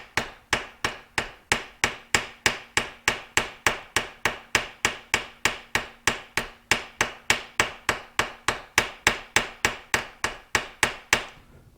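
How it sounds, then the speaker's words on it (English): Ball peen hammer peening motorcycle hardware resting on a piece of aluminum during reassembly of a 1973 TC125, a steady run of about forty sharp, evenly spaced metallic strikes, close and loud, with no talk. "I'm going to set it on top of some aluminum, and then we'll start peening it."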